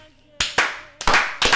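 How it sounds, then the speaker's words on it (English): A few slow, deliberate hand claps ring out one by one, sharp and close, the first cracks spaced widely and the later ones coming a little quicker, over faint background talk. "I would literally like to go ahead and start a slow clap"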